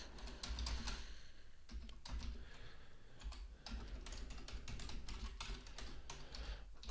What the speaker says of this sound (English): we'll type in a message, enter.